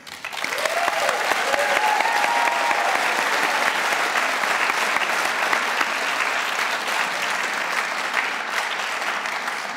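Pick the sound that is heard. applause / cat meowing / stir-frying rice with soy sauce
applause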